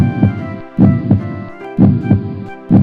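A big heart beats loud and close in a steady rhythm, with about four heavy thumps spaced under a second apart over a soft tonal hum and no voices.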